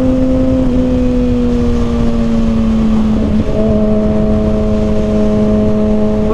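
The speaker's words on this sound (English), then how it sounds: "I want you guys to listen to the downshifts" A 2021 Kawasaki Ninja ZX6R KRT Edition on a night ride, its exhaust a steady loud engine drone whose pitch drops and steps between gears like downshifts, with constant wind rush and no speech.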